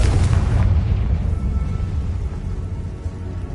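A single heavy boom from a Confringo fire spell in Hogwarts Legacy hits at once, then rolls off into a long, deep, fading rumble, with no voices.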